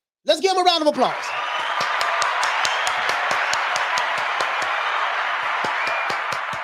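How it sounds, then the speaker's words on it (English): A crowd gives a round of applause for boxer Gary Russell Jr., steady broadband clapping that swells after a brief voice at the start and holds evenly to the end. "Let's give him a round of applause."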